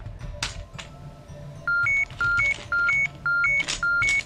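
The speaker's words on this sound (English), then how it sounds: "Why is it beeping?" A series of five electronic beeps in a steady, evenly spaced pattern, each a short two-tone chirp, loud over a low background hum.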